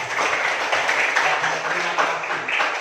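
Classmates clap for a young student during a biology lesson, a loud, continuous patter of many hands filling the classroom, close and steady, with faint voices beneath.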